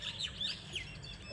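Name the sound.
bird singing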